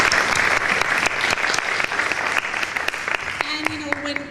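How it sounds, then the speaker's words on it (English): An audience claps in sustained applause at a community television show event, dense and steady throughout, with a voice starting to speak near the end. "let's give him a round of applause."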